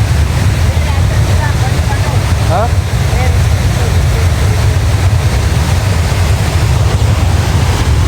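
A waterfall rushes with a loud, unbroken roar close to the microphone, while wind buffets the mic and adds a low rumble throughout.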